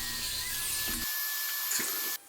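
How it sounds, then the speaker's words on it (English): Power saw making a 45-degree cut in wooden window trim: a high, steady whine that drops away sharply as the cut ends, followed by a quieter fading spin-down and a brief clatter. "What I'm doing now is I'm making one cut on one side of each piece of trim."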